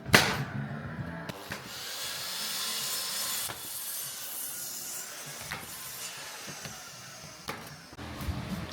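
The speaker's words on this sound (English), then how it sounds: "I'm just about trimming on for the Veluxes, trimming the timbers for the Veluxes." Timbers trimmed by hand saw for Velux windows in a conservatory roof, steady rasping strokes close by with a sharp knock at the start and occasional thuds between passes.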